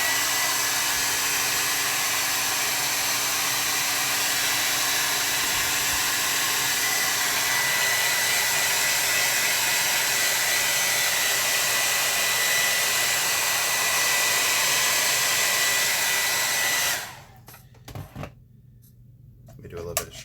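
A hair dryer blows to dry a gouache still-life painting of a flower and vase, a loud steady whoosh held for about seventeen seconds before it cuts off, leaving faint handling noises and brief sounds.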